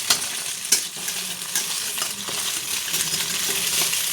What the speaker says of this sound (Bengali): সুন্দর করে ভাজা করে নেব